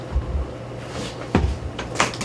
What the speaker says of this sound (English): Good thing I can reach the door from here.